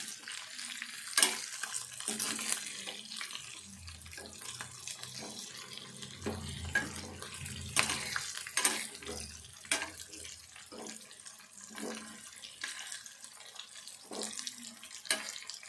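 Raw chicken pieces being rinsed under a running kitchen tap, with soft, irregular splashes and trickling water at low level throughout. No voices are heard.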